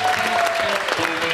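A studio audience applauds loudly and continuously at a talk show as a guest director is welcomed, dense clapping filling the whole moment with a faint voice beneath.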